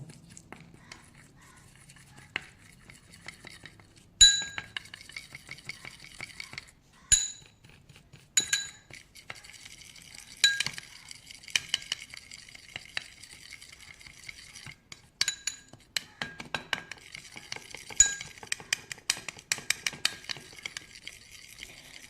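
A spoon stirs hair oil and crushed vitamin tablets in a small bowl, giving a long run of light clinks and scrapes against the sides, with a few sharper taps spaced through it and no talking.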